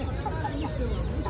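A white Aseel rooster at a poultry market clucks and murmurs close by amid busy background chatter and crowd noise.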